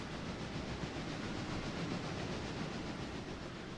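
A steam locomotive hauls a train in the Railroader game, a steady broadband rumble with rhythmic chuffing and rolling wheel noise that holds evenly throughout with no talk.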